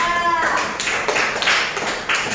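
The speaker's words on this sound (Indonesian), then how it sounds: "Tepuk tangan kelompok 3" A group in an Indonesian classroom claps together for group three, a burst of sharp hand claps after a speaking voice, fairly close and lively.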